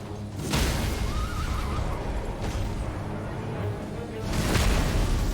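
A horse whinnies loudly, mixed with heavy thuds and swishes, with a strong burst near the start and another toward the end, in the video game Elden Ring.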